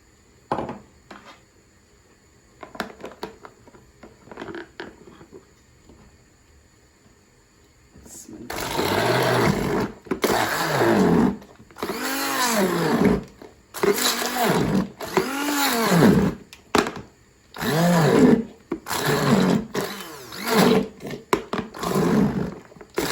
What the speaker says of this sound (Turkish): Blender'dan geçireceğim şimdi.